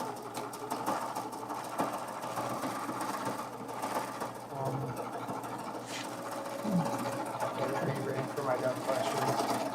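Overlock serger sewing machine stitching a fabric edge for a tunic, a quiet rapid mechanical whirring running steadily beneath people talking nearby.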